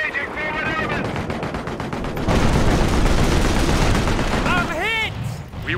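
Dense, continuous gunfire from rifles and machine guns in the World War II strategy game Company of Heroes, during the Operation Market Garden campaign at Oosterbeek, rattles on loudly throughout while voiced unit callouts shout over the barrage.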